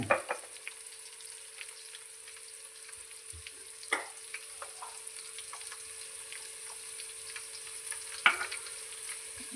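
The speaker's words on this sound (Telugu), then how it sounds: "ములక్కాయలు ఫస్ట్ వేసేసి తర్వాత వెంటనే సొరకాయలు వేసేద్దాం కొద్దిసేపు అయితే మూత పెట్టి వేగనిద్దాం" Drumsticks and bottle gourd pieces fry for sambar in a pan, with a steady soft sizzle under a few sharper clatters of stirring and vegetables dropping in, and no voices.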